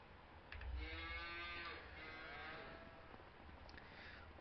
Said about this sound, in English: Then we got our cows here. Yeah, we got 100. We got Holstein.